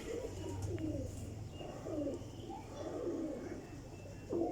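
A golden pigeon coos in low, repeated rounded calls as it is released, with a few faint chirps and a steady low hum underneath.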